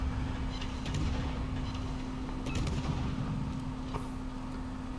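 Warship guns fire in the World of Warships naval battle game, heard as muffled booming salvos over a constant low engine rumble.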